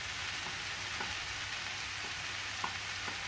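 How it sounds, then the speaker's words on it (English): Finely diced mushrooms fry in a pan for an enchilada filling, giving a steady, even sizzle with a few faint stirring clicks. "we'll add the finely diced mushrooms"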